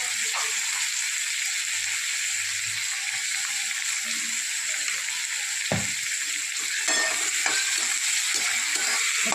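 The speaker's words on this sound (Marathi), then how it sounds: "दोन मिनटं असं परतून घ्यायचं आपल्याला" Onion and tomato sauté in a pan for a dry cabbage dish, a steady bright frying hiss throughout, with a brief stir or scrape near the middle and light clatter toward the end.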